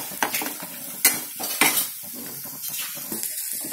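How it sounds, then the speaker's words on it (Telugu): A utensil stirs a fried coconut rice mixture in a pan, with close scraping and clinking against the metal over a faint sizzle and a few sharper knocks. "ఇది మిక్స్ చేసుకోవాలి"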